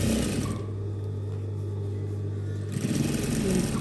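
Sewing machine stitching around the hem and cuff of a shirt, a steady continuous motor hum that runs close and fairly loud throughout, with a slight change in tone near the end.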